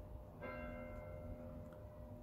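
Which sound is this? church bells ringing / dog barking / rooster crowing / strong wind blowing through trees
church bells ringing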